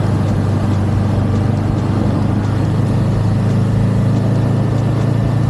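A Kawasaki Ninja 7 HEV hybrid motorcycle engine runs as the rider shifts into second gear, giving a steady, loud drone with no distinct break at the shift.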